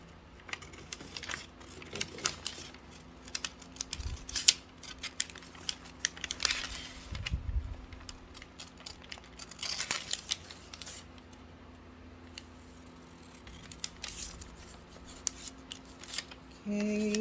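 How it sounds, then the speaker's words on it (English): Scissors snip through a paper back bodice sewing pattern in close, irregular bursts of cutting with rustling paper between snips, and nothing else is heard around them. "now I'm going to cut out the rest of it."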